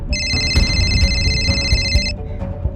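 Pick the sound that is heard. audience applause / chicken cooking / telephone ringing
telephone ringing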